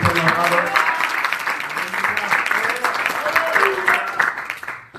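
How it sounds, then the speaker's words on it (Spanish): A church congregation applauds during a sermon, dense sustained clapping that swells and then tapers off at the end, with voices mixed in over it. "Denle una ofrenda de palmas a Dios en este momento."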